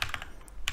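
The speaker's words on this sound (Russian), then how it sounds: "банально зайти в Google, набрать gmapping ROS" A few quick keystrokes clatter on a computer keyboard nearby as a search is typed, in a short irregular burst.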